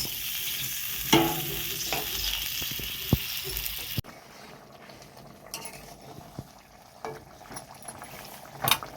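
Fried fish goes into a simmering curry: soft sizzling and bubbling, occasional utensil clinks and stirring, the sizzle dropping quieter partway through.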